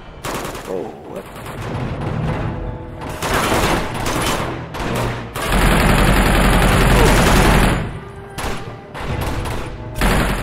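Gunfire from the video game Uncharted 2: Among Thieves, loud sustained bursts of rapid shots rolling over one another for several seconds with brief lulls between volleys.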